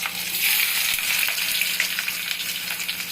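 Slit green chilies and onion frying in hot oil in a pan, a steady loud sizzle and crackle that holds without a break and carries no talk.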